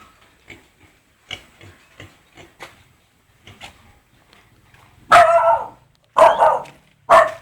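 Pigs at a pigsty grunt and squeal in loud, close bursts, with fainter scattered snorts and shuffles between them.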